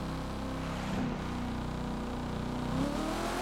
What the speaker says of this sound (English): Not a bad sounding car.